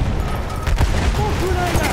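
Battlefield 1 battlefield noise carries enemy machine gun fire as a dense, booming rumble with bursts of rattling shots, moderately loud, beneath shouting voices.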